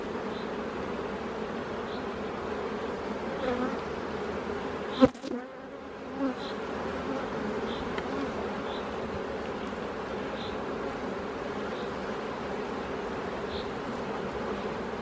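Honeybees hum in a dense, steady drone around an open hive during a weekly beehive inspection, close and continuous, with a brief knock or handling thump partway through and no speech.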